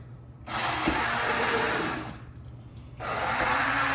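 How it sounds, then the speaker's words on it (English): A blender whirs loudly in two bursts while blending a piña colada, running for about a second and a half, pausing briefly, then starting up again. "Make sure it's all blended in there."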